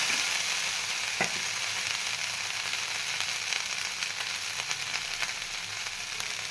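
Kashmiri red chili powder, turmeric and salt fry in a pan for katla fish kalia while being stirred, with a steady close sizzle and occasional sharp crackles and pops.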